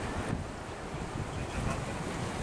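Strong wind buffets the microphone on the pier in Gdynia by the sea, with a constant roar of gusts and breaking waves filling the whole stretch and no voices.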